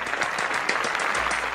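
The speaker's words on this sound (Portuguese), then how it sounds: "Inclusive, uma salva de palmas, ó." Brief burst of applause, dense clapping from a group, steady and moderately loud for under two seconds with no talk over it.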